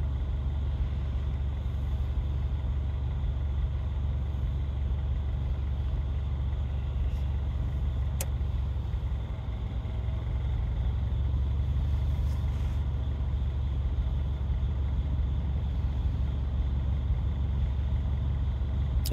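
A Norfolk Southern intermodal freight train pulls out of a siding near the OH-725 crossing, a steady low rumble from a distance that holds evenly throughout with no voices.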